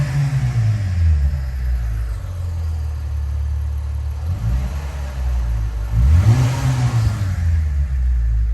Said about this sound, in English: What it sounds like with some revving.